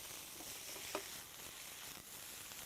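Vegetables are tossed in a hot pan with olive oil, giving a faint, steady sizzle with a brief clatter as they are stirred, and no voices.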